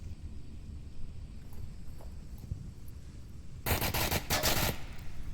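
Gunfire in the VR shooter Onward: quiet footsteps and faint shuffling, then a sudden loud burst of rapid automatic fire, a short pause, and another quick volley close by.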